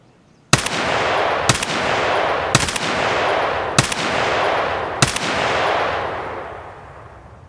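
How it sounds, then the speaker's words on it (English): Five loud, sharp gunshots in Escape from Tarkov, fired at a scav at an unhurried pace of about one per second, each followed by a long rolling echo that fills the gaps before fading out. "we're going to shoot at a scav and make ourselves known to everyone"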